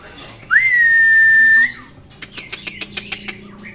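A young male white-rumped shama (murai batu) in a cage gives a long, steady, pure whistled note, then a quick series of short, sharp chirps, close and clear.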